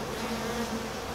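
Honey bees buzzing close by during a hive inspection, a brief steady swarm hum with no voices.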